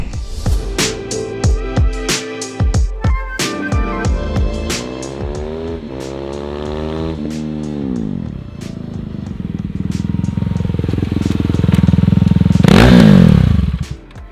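A KTM RC 390 motorcycle racing on a track, loud and close: rapid sharp revs and gear changes at first, then long rising and falling engine sweeps, ending in a sustained roaring pull that cuts off abruptly.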